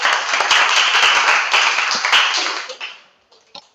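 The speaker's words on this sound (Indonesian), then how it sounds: "Terima kasih, tepuk tangannya." Students in a classroom clap together in a steady burst of applause for about three seconds, which then quickly dies away to a few scattered claps.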